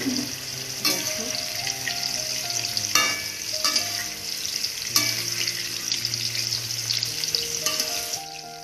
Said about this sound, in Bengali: দেখো এদিকে কুমড়ো ভাজা হচ্ছে এদিকে হচ্ছে শসা ভাজা এদিকে আলু ভাজা